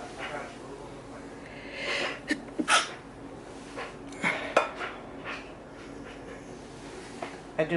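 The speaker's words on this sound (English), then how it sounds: "I do apologize for sneezing." Sneeze set off by pepper while enchiladas are cooked in a kitchen, a sharp burst amid clinking dishes and cutlery, with light breathing around it.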